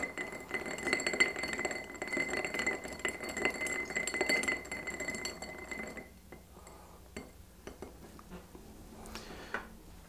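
A Rusty Nail cocktail stirred over clear ice: rapid, continuous clinking of ice against glass for about six seconds, then it stops and only a few faint taps follow.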